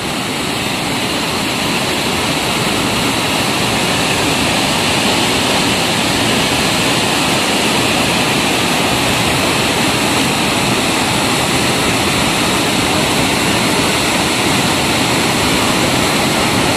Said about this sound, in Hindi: और ये जो है कांगेर धारा वाटरफॉल